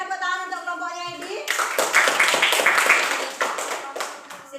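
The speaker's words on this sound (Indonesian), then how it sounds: "Berikan tepuk tangan untuk kelompoknya Hedi." Classroom applause for a student group, a short burst of clapping from a small group of students that starts after a voice speaks and tapers off.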